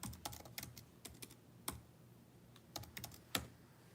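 Fingers type on a computer keyboard, entering a search term: a quiet, irregular run of light key taps with short pauses between bursts.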